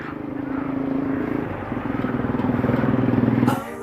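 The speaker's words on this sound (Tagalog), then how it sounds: "Ato na nadala ang motor." Engine of a Yamaha Sniper 155 motorcycle drones steadily at close range with a rising, pulsing rev toward the end, then cuts off abruptly.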